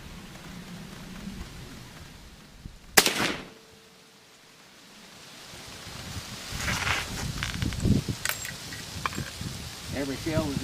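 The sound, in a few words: rifle gunshots firing 8.15x46R target loads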